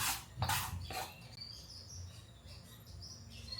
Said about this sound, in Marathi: बघ कसे छान पक्ष्यांचे आवाज येतात